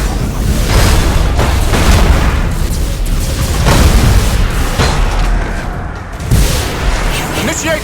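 Thunderhawk bombardment in the space strategy game Battlefleet Gothic Armada 2, a dense barrage of heavy booming explosions rolling one after another, loud and continuous with battle noise throughout.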